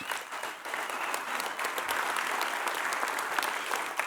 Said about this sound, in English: give these guys all a great round of applause